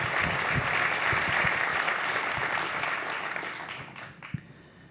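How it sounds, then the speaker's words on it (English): At a cloud technology keynote, an audience gives a round of applause, dense and even at first, then thinning and fading toward the close with a few scattered final claps. "Please give them a round of applause of having the courage to join us."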